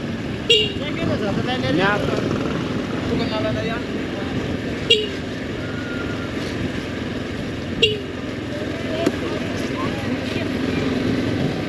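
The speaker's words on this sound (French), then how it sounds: "On va commencer à donner des petits coups de klaxon pour avertir de notre arrivée." Several short car horn toots sound on a mountain road in the Madagascar highlands: brief, fairly loud beeps at about half a second, five, eight and nine seconds, spaced irregularly over steady engine and road noise.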